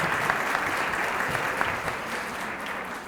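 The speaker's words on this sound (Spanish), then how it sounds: "Lo recibimos también con un fuerte aplauso." Steady applause from an audience welcoming a speaker at a university talk in Córdoba, a dense, even wash of clapping hands lasting the whole stretch at moderate volume.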